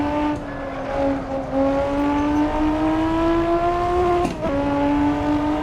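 Racing-simulator car engine lapping the Nürburgring Nordschleife tourist layout revs steadily upward under hard throttle, with a clear rising whine and one quick upshift dip near the end, loud and continuous with no voices.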